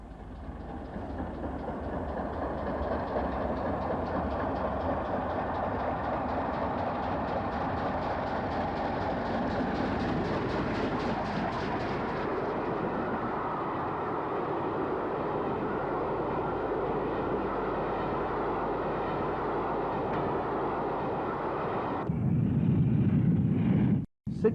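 Steam locomotive 60126, a Class A1, hauls a down express train, its steady rumbling roll and rail noise loud and continuous for over twenty seconds before cutting off abruptly near the end.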